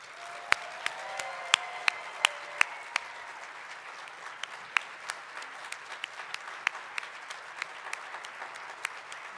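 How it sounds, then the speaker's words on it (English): Sparse applause from a small audience, scattered sharp claps over a soft wash of clapping that gradually thins out. "Can I please get a round of applause for Ms. Yoreli Gonzalez Hernandez?"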